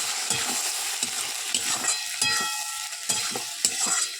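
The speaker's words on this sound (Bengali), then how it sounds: "আদা শুকনো লঙ্কা ও রসুন বাটাটা একসঙ্গে দিয়ে দিলাম" Ginger, dried chili and garlic paste stir-fried together in a pan for a chicken-feet dish, rhythmic spatula scrapes at steady intervals over a bright continuous sizzle, close and without speech.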